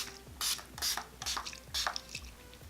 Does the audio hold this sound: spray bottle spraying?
yes